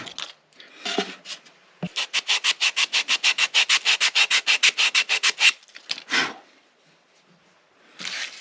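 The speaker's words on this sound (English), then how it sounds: "I'm sanding this edge with 120 grit paper." Rhythmic back-and-forth sanding of a wooden ukulele edge with 120 grit sandpaper, about twenty even rasping strokes close up, with a few scattered scrapes before and after.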